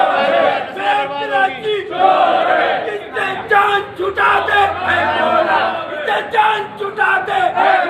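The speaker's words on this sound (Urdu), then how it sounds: "یہاں تک کہ میئر کراچی کے خلاف بدترین نعرے بھی سننے کو ملے۔" A crowd in Karachi shouting and chanting slogans against the city's mayor, with rough overlapping voices rising and falling in rhythmic bursts, loud and close throughout.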